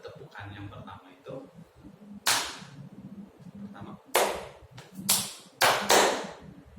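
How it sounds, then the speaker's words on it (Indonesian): Sharp hand claps in a rhythmic ice-breaker pattern during a classroom microteaching lesson, used to focus students: a spoken lead-in, then a few loud, close claps in short groups with pauses between. "Jadi tepukannya seperti ini. Ada 2 tepukan."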